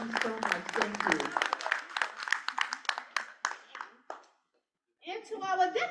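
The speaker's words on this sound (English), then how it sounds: "Give her another round of applause." An audience at a calendar and business meeting breaks into a round of applause, a close burst of rapid, dense clapping that thins out and stops, followed after a short silence by a voice starting to speak.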